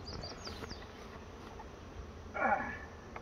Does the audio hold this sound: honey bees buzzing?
yes